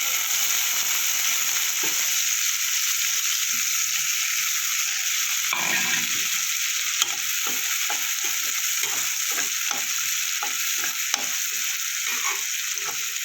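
Steady, loud sizzling of whole cumin seeds and chopped onion frying in hot oil, with occasional stirring scrapes and no talking.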